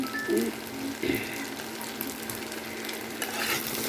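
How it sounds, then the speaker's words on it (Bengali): Food dry-frying in a pan gives a quiet, steady sizzle with occasional stirring scrapes and faint clinks, heard close and alone. "এটার জন্য একটু শুকনোভাবে ভাজা ভাজা করছিলাম"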